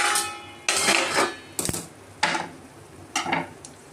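A spoon stirs vermicelli upma with ghee in a pan over a low flame, giving several sharp scraping and clanking strokes against the metal with short quiet gaps between them under a faint background sizzle.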